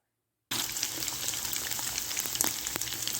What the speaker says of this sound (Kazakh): Оны жаңа қызып тұрған майыма салып, қуырып алам